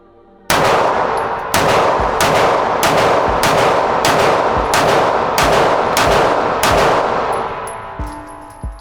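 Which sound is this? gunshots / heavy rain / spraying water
gunshots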